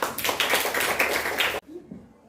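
A classroom of students claps for a group, a brisk burst of many hands clapping that stops abruptly partway through, leaving a quiet room with faint voices.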